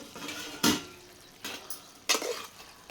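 Okra curry with dried prawns being served from a pan onto a plate: three sharp metallic scrapes and clinks of a spoon against the pan, spaced apart, close and fairly loud against a quiet background.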